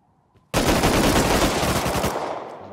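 A sudden, sustained burst of rapid automatic gunfire in the video game Rust, loud and close, rattling continuously for about two seconds before tapering off.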